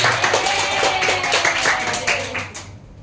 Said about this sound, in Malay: Berikan tepukan kepada semua.